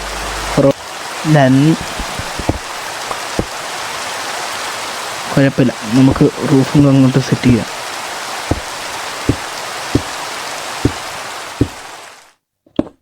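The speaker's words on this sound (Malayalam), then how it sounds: "നല്ല കാറ്റുള്ള മഴ കേട്ടോ" Continuous broadband video game rain hiss with a rushing, windy quality, interrupted by sharp clicks and someone talking intermittently over it, then abruptly cutting off.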